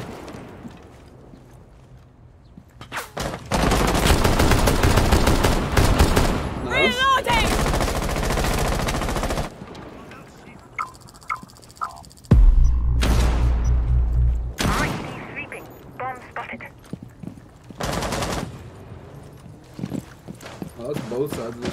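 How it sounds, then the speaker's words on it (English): Gunfire in a video game with a bomb-defuse mode, arriving in loud, dense bursts of rapid shots separated by quieter gaps, while a player talks over and between the volleys. "Oh, I'm getting shot at through the garage"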